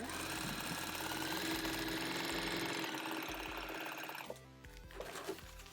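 A sewing machine runs steadily, stitching a fabric seam with a fast even mechanical chatter close up, then stops about four seconds in, followed by a few soft handling knocks.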